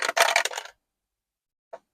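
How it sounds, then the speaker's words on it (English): Dice are rolled for a savings challenge, a short clattering rattle of a die tumbling on a hard surface, followed after a pause by a single small click as it settles. "Roll the dice."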